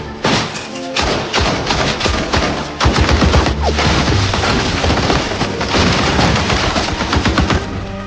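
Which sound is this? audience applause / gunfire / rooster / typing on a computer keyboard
gunfire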